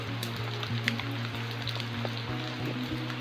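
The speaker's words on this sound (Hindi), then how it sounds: "चट्टानों से झड़ती हुई बारिश" Rain drips off rocks at the Bhimbetka rock shelters, a faint steady patter over a low continuous hum, with no talking.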